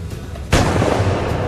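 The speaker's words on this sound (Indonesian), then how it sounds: "ada yang melempar bom" A bomb blast in the pirate action game Assassin's Creed IV: Black Flag, one sudden loud booming detonation that rolls on with a rumbling tail.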